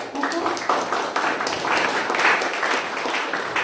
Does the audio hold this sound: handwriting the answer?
no